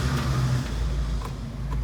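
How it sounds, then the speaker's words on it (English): A 1974 Ford Bronco with a 2-into-1 exhaust system, started with a key, settles into a steady, low idle rumble that runs continuously and close by, with no voices. "Let you hear it fire up and running."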